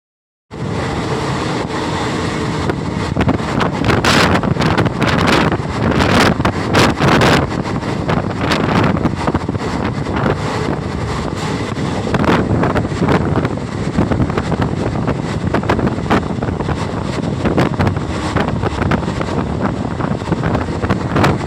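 Loud, constant roar of rushing wind buffeting the microphone, mixed with rumbling motion noise from a fast-moving Indian Railways train between Durgapur and Howrah, unbroken throughout.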